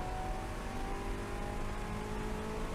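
A Corvette engine roars at full throttle on the National Corvette Museum (NCM) Grand race track, giving a steady, loud, sustained drone throughout with no speech.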